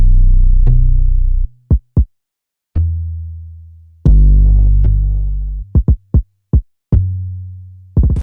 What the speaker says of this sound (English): I made this tom and kick pattern that accents the bass.